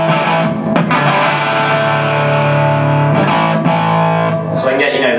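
An electric guitar plays through a Marshall Class 5 amp set for a crunchy tone: sustained distorted chords ring out loudly, with a few brief pick scrapes and a chord change near the end.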